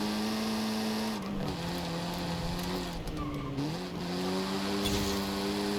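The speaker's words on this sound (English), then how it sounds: "Sounds like a vacuum cleaner because it's a 4-cylinder." A buzzy four-cylinder car engine in the video game Forza Horizon 5 drones steadily, its pitch dipping and climbing as the revs shift between gears.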